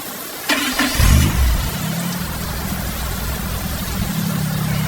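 A car starts up and pulls away, with a clunk and a surge of engine revving followed by a steady mid-pitched engine hum that carries on at a constant level.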